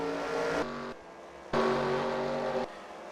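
Stock race cars running at New Hampshire give off a steady engine drone with the pitch shifting between segments, as if passing or changing gear, loud and continuous with no talk.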